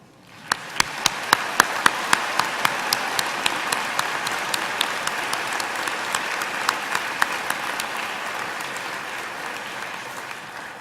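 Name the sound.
graduation audience applauding parents and families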